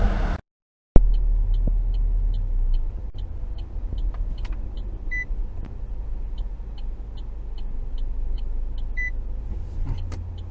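Opel Grandland car interior during park assist, a low engine rumble with a repeating soft chime beeping at steady intervals after a brief cutout, no talking.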